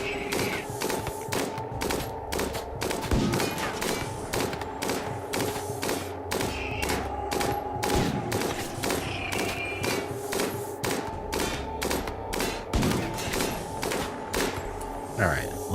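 Guns firing at Scyther mechanoids in the RimWorld colony game, a dense, steady stream of rapid shots and thuds lasting throughout, with someone talking over the gunfire.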